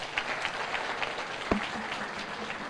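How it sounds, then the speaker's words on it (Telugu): Audience applause for student Yamuna at a Guntur VVIT College gathering: a steady, fairly soft wash of clapping from many hands, sustained throughout without speech. "ఒక్కసారి యమునా చప్పట్లు కొట్టరా అందరూ"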